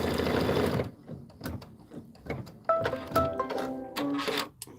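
Embroidery sewing machine stitching a holiday rope bowl in the hoop, running slowly in uneven bursts with clicks, clacks and brief tonal whines, close by.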